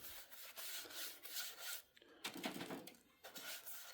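A brush rubs coating onto a wooden hive box in quick, close, scratchy strokes, with short pauses between passes and no talking.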